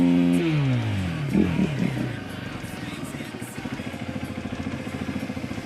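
A KTM motorcycle engine idles nearby with a steady pulsing chug while the bike is put away; a voice speaks over it early on, then the engine runs on alone.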